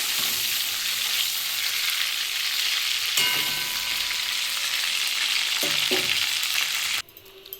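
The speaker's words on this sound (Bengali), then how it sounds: "এই তেলে দুটো আলু দেবো এই আলু দুটো ভেজে নেবো" Two potatoes sizzle steadily in hot oil left over from frying chicken, the spatter loud and close, with a couple of stirring clatters before the frying abruptly quietens near the end.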